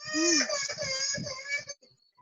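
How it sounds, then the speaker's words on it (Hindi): A baby cries in the background of an online Hindi lecture call, giving a short, rising and falling wail with a few sobbing breaths that fades out after about two seconds. "बच्चा रो रहा है"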